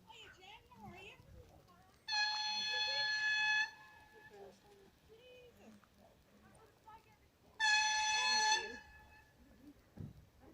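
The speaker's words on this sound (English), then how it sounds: "there's a train coming" A DART train approaching the Greystones rail crossing sounds two loud, sustained horn blasts several seconds apart, with young voices chattering quietly between them.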